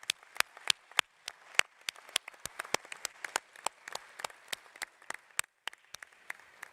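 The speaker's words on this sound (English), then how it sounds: "Let's give him a big round of applause." Sparse applause from a small audience at a conference session for the newly named chairperson, distinct individual claps spaced irregularly and heard from a moderate distance.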